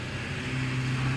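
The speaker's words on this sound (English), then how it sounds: "there's a truck driving by" A truck passing by outdoors near a garden, a low steady engine rumble and tire hum, fairly loud and continuous for a brief moment.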